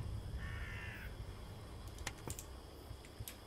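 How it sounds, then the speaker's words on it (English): Crows cawing in a video game, a harsh raspy call standing out early, while sharp keyboard clicks and typing taps scatter through the rest over a low steady background. "Birds!"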